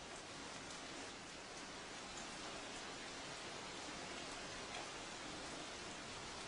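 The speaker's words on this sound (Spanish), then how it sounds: "De repente, empieza a llover." Steady rain falls across an alpine valley in Austria, a dense, even hiss of countless drops that stays constant throughout with no voices over it.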